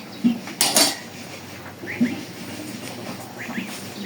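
Metal pots and cutlery clatter in a home kitchen while the older sister cooks, with a sharp cluster of clanks near the start and then softer scattered knocks and scrapes that come and go.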